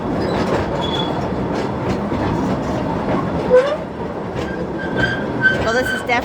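An antique straddle train car rides down into the Queen copper mine in Bisbee, Arizona, a steady close rumble of wheels on rail with clattering and occasional high metallic squeals, continuous throughout.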